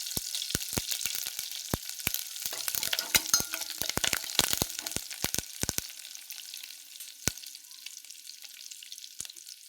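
Green chilli and curry leaves sizzle and fry steadily in a hot pan, with sharp crackles and pops throughout and a spoon stirring and scraping now and then; no one speaks.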